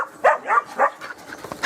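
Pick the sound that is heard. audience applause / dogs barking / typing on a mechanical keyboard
dogs barking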